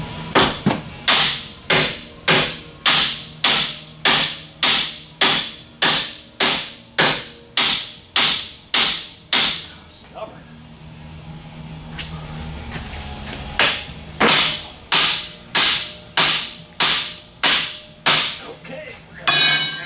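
Loud metal hammer blows strike a rusted tie rod on a New Edge Ford Mustang in a fast, even rhythm, pause for a few seconds of quieter shuffling, then resume with another steady run of strikes.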